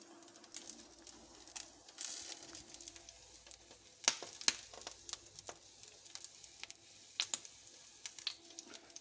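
Salmon fillets crackle and spit faintly in a hot frying pan, a quiet steady sizzle broken by sharp little pops at irregular intervals.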